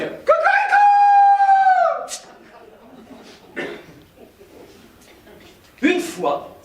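An actor on stage in a French performance of the play La Cantatrice chauve vocally imitates a rooster's crow: one loud, sustained, wavering call lasting about two seconds, then quieter shuffling and a brief vocal burst near the end.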